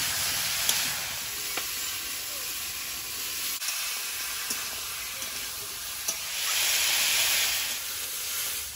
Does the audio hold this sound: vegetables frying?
yes